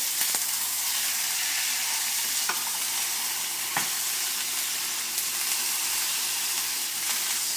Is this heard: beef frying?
yes